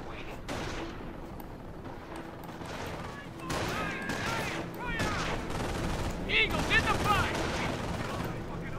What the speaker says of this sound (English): MG's suppressing the bunker already.